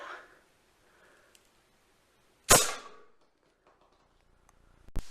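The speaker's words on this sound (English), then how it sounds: "Shooting at the aluminum can." A homemade air gun fires a Nerf dart at an aluminum can: one sharp, loud pop and clatter, then quiet, and a second short crack near the end, both close by.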